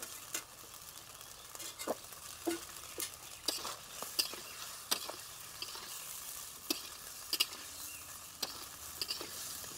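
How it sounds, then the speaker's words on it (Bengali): Drumsticks and water going into vegetables frying for dudh shukto: a soft continuous sizzle broken by irregular clicks and taps of a utensil, fairly faint and close, with no talking. "এখন সজনে ডাঁটাগুলো দিয়ে দিচ্ছি।"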